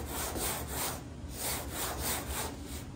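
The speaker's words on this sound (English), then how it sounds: "If I put pressure in the middle of this block, just slight pressure, if I'm sanding," Hand sanding of a truck hood with a sanding block, a steady rhythmic rasping of back-and-forth strokes, close and moderately quiet with no talk.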